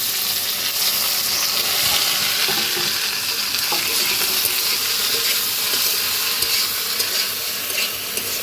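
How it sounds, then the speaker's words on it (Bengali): Sliced okra frying in a kadai with browned onion and green chili, a steady loud sizzle with stirring scrapes throughout, no voices. "পেঁয়াজ মরিচটা লাল করে ভাজা হয়েছে, এবার ভিন্ডি কাটাটা দিয়ে দিলাম।"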